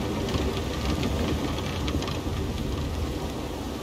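Steady rain in the video game Red Dead Redemption 2 falls in the Grizzlies East area of Ambarino, a dense, even hiss of drops on surfaces that holds constant throughout with no voices.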